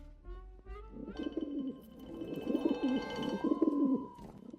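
A pigeon coos repeatedly in soft, throaty rolls, close by, with a few faint chirps and background tones around it.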